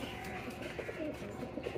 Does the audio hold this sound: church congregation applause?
no